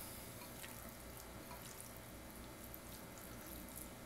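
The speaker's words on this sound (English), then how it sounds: "Wash my hands." Tap water runs steadily into a kitchen sink while hands are washed during crab dip preparation, a continuous broadband rush, close and alone with no talk.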